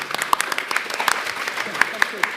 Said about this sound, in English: I think round of applause, actually